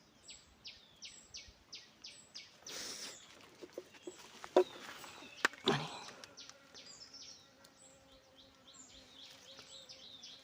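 Small birds chirping near a forest stream where birds come to bathe, giving short repeated high calls and buzzy notes, with a few sharp louder clicks and rustles in the middle, fairly close, amid quiet background.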